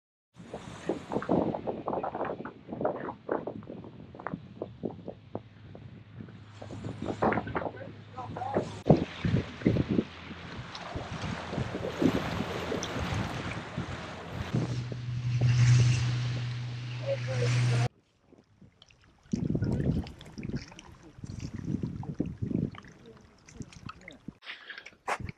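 A small boat cruises across Paradise Bay, Antarctica, its motor and water churn blending with strong wind buffeting the microphone, loud and continuous with a brief drop-out near the end; voices are heard talking over it.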